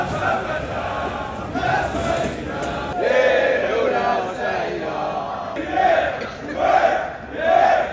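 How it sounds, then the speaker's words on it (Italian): Moroccan football fans chant and cheer together in Doha during the World Cup, a loud, rhythmic crowd of voices rising in repeated surges, heard close and filling the space. "Arrivati i tifosi del Marocco."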